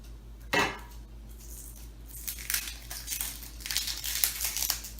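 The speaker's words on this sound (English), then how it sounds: "So I'm going to peel the onion." An onion having its dry outer skin peeled off by hand for roasted vegetables, giving a sharp crackle near the start and then a run of dry rustling and crinkling that grows busier toward the end.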